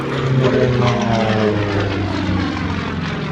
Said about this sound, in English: Graig Connell, the Pitts Model 12, rolling the airplane around as his airspeed bleeds off